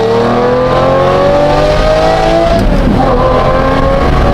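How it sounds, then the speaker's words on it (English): A Lamborghini Murcielago's exhaust roars loudly and up close while driving on a scenic road, with a sustained engine note that climbs, then drops and shifts partway through. "I came out here for myself to enjoy driving my car, listening to my exhaust."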